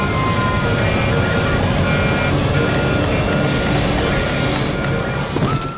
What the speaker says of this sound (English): Alarms were sounding in the cockpit.